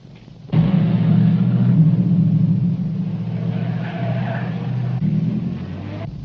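A 1930s car roars off in a loud, sustained engine rumble with a hint of tire skid, close by and dominating the scene.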